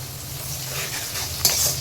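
Curry leaves dropped into hot oil for a spiny gourd curry, a loud steady close sizzle that flares briefly near the end.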